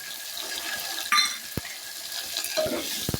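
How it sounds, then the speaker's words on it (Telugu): Chopped small tomatoes tipped into hot oil for an aloo and dosakaya curry, giving a brief sizzle and splash with a few stirring clinks against the pan, close and moderately loud. "అలానే 2 చిన్న టమాటాలు కట్ చేసి పెట్టుకున్నాను, అవి వేసేస్తున్నాం."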